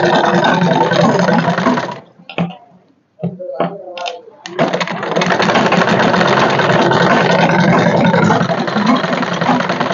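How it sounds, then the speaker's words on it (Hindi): A sewing machine stitches a strip onto a pleated kurti in a loud, close, continuous whirring run, with a short pause in the middle where a voice speaks briefly. "अब इसके ऊपर हमने पट्टी बना ली है और ये इसे इस तरीके रख के हम सिलाई लगाएंगे"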